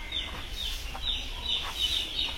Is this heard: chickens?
yes